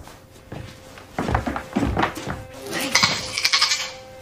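A sheep bleats amid thumps and creaks in a horror film scene, the cries close and strained as knocking sounds land around them, growing louder toward the end.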